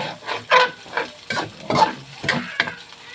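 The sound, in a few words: fat rendering and frying in pan for pakbet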